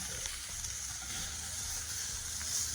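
Filet mignon steaks sear in a cast iron skillet for a Cajun dish, giving a steady, soft sizzling hiss that holds evenly throughout without pause.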